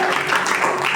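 An audience at a prayer vigil breaks into applause, a short, dense wash of clapping that is loud and close, with a voice faintly mixed in beneath it.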